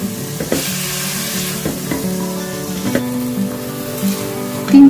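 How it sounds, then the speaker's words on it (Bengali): Mutton sautés in a pan for an Eid-style yakhni pulao, a loud continuous sizzle and crackle close up, with periodic clinks and scrapes of stirring and no talking. "এবার মাটনটা দিয়ে আমি 3 থেকে 4 মিনিট একটু সতে করে নেব"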